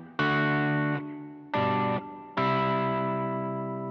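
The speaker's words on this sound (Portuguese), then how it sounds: "Normalmente eu utilizo esse som de drive ou com o hall, com um reverbzinho," An electric guitar played through drive and hall reverb pedals rings out in three sustained, distorted chords, each cut off or decaying into a lingering reverb tail, with no talking.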